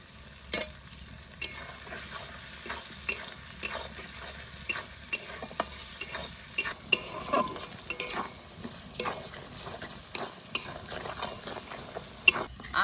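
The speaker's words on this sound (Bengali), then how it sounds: "এবারে তেলের মধ্যে গোটা রসুনগুলোও দিয়ে দেবো।" Whole garlic cloves, ginger and green chillies sizzle in hot oil for a desi chicken curry, with a steady frying hiss broken by repeated scraping and clinking of a spatula stirring the pan.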